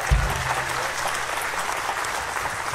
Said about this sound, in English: Let's give the Lord a hand of praise and a smile.